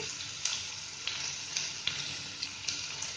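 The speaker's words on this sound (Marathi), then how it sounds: "आता त्याच्यामध्ये आहे ना अद्रक लसूण चिचून घेतली आहे ती टाकते" Crushed ginger and garlic, added to onion in hot oil for a ridge gourd and moong dal bhaji, sizzling with a steady close hiss and a few sharp spatters and clicks throughout.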